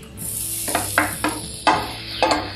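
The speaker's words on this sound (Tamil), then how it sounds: "இப்போ நான் வந்து காய்கறி சேர்க்குறேன்." Chopped tomato, onion, beans, carrot, ginger, green chilli and peas hit a hot pan with a hiss, then a series of scraping stirs and clinks against a sizzling background, close and clear.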